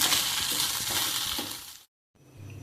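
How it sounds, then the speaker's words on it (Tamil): Tamarind tossed and stir-fried in a pan while cooking curry leaves rice, a steady close scraping and sizzling hiss that cuts off abruptly, then resumes more quietly after a brief silence. "இந்த புளியை அதில் போட்டு பரட்டி எடுத்துக்கலாம்"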